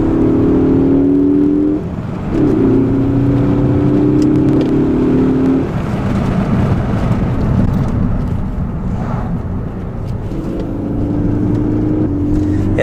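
A 2016 Ford Focus ST engine drones steadily while driving on winding roads, its tone rising and falling with throttle, loud and close throughout with a brief dip partway through.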